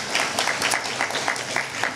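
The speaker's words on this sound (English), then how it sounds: "so give yourselves a round of applause." Graduates at a 2023 Howard University School of Communications graduation reception give a round of applause, a fairly faint, dense patter of many hands clapping at a steady level for a couple of seconds.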